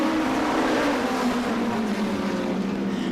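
NEMA midget race cars roaring around an oval at the Waterford Speedbowl after a restart, a dense, continuous engine drone with pitch sliding slightly as the pack passes, fairly loud and without talk.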